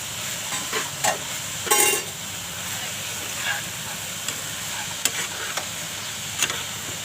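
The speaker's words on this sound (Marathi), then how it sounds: "आता मी मेथीची भाजी घालून घेते" Onion and fenugreek leaves frying together in a pan, a steady background sizzle broken by scattered scraping clicks and a few brief louder stirring bursts, no talk over it.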